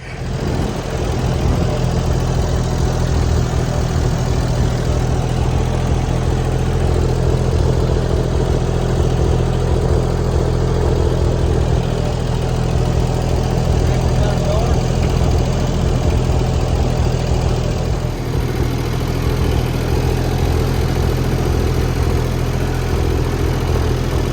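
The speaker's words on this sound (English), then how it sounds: "I got my tractor running" A steady, loud tractor engine idles and rumbles continuously, a low throbbing drone with no pauses from start to finish.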